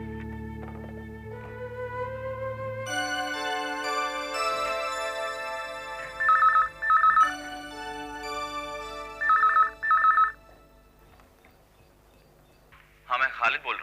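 An old-style telephone rings in two separate double bursts indoors, each ring loud and electronic, set against soft background music with no talk over it.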